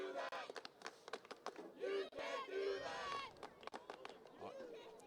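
Crowd at a women's high school soccer match between Jesuit and Southridge, giving a loud surge of shouting and cheering that rises in the middle, with nearby chatter and voices throughout.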